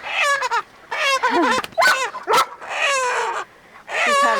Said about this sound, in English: The dogs are like, hello, I want to help.